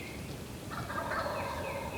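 Wild turkey toms gobble from the roost within about a hundred yards at dawn, a rattling, rolling call rising out of steady outdoor background noise, moderately distant and without talk.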